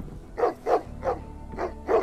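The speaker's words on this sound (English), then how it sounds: "I hear dogs." Dogs bark in the video game Sherlock Holmes The Awakened, about five short, evenly spaced barks at moderate distance over a low, steady background hum.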